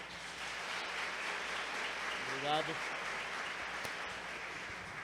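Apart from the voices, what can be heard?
congregation applauding the pastors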